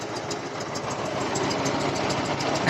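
A Prykarpatets mini tractor engine labours steadily on hilly ground, a loud continuous rough drone with a knocking throb, close up and alone.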